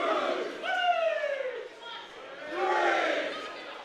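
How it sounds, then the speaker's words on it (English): A wrestling crowd cheers and yells at a live match, with rising and falling waves of loud voices and shouts in two main surges. "And the crowd are loving this."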